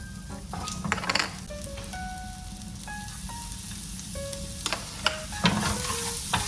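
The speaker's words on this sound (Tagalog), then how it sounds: "on the same pan, we will just saute the garlic and onion" Garlic and onion sautéing in a pan for a sauce in a commercial cookery kitchen, giving a steady close sizzle with frequent stirring scrapes and light utensil clinks, with no talking.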